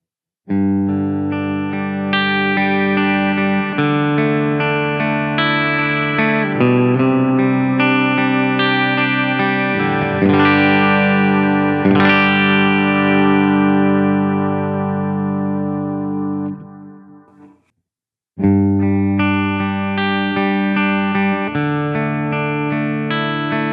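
Upgraded Chibson Les Paul electric guitar on a clean amp setting, strummed chords ringing out and sustaining, then a short silence before playing resumes, loud and close with no talk.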